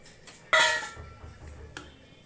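A metal pan set down on a home kitchen stove while preparing a village-style mutton and field-bean sambar: one sharp, ringing clank, then a fainter knock about a second later, close and otherwise quiet.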